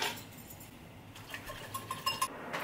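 Turkey meatball mixture for teriyaki meatballs being whisked in a bowl: light clinking taps of a whisk against the bowl, irregular and quiet, growing busier toward the end.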